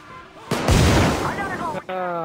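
Gunfire in the video game Payday 2 during a mall heist, with a loud, booming burst that swells and rumbles for over a second before cutting off, followed by a tonal game sound.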